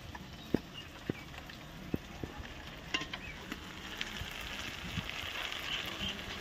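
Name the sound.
sautéing spice paste with chopped tomato and chili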